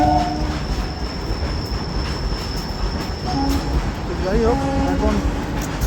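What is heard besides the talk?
goods train passing at Ultadanga station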